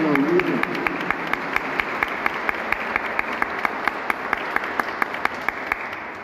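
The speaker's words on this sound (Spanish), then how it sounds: "Vamos dándole un aplauso muy cariñoso a Natalia" A church congregation applauds warmly during a Sunday Mass in honor of a young girl, a steady crowd clapping with a few sharper individual claps standing out, and a brief voice is heard at the very start.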